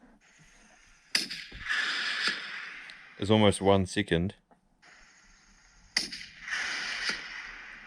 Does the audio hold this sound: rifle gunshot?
yes